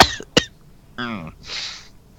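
Two sharp coughs from a person near the start, followed by a voiced throat sound and a breathy exhale, close and fairly loud, then quiet.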